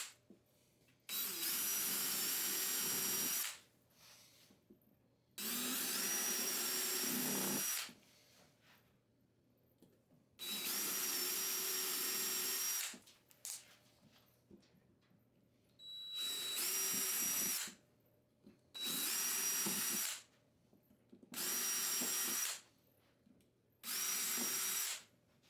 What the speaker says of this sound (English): I pre-drilled the holes to assemble the two sides together with the 30-inch 2x2s